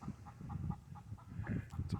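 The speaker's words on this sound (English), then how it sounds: "Chickens are all back in their normal run" Backyard chickens in their run make soft, irregular clucks and low murmuring calls, fairly close, with a couple of sharper squawks near the end.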